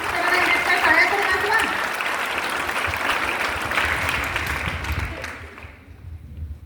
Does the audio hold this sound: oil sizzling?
no